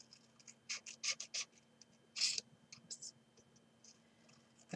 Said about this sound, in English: Then get your scissors and do the usual cutting up.